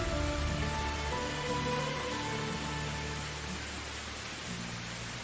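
Steady rain falls in the medieval survival game Medieval Dynasty, a continuous broadband patter with faint tonal game ambience beneath, easing slightly toward the end.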